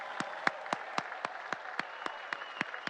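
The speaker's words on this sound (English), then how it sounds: "One last round of applause for Ramon Dominguez." An audience at a Saratoga ceremony honoring jockey Ramon Dominguez with the Red Jacket gives a short burst of applause, about a dozen sharp, evenly spaced claps heard up close.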